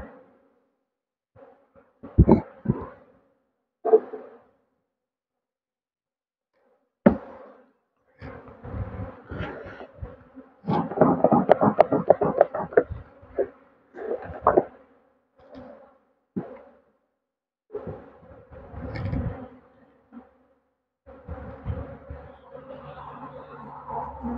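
Honey bees buzzing close up in an opened hive full of brood, heard in uneven bursts of droning hum separated by short silent gaps, strongest around the middle.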